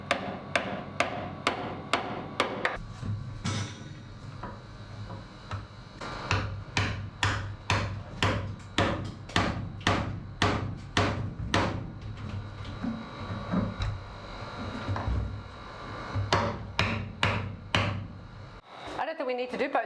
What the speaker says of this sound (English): I need a heavier hammer.